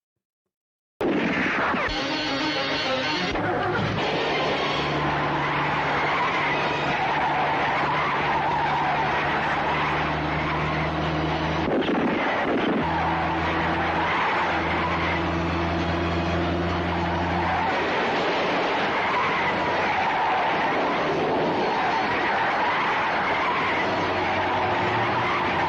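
Tires shriek in a long, loud skid over a roaring car engine during a movie chase scene, the squeal sustained for many seconds with a brief jolt partway through.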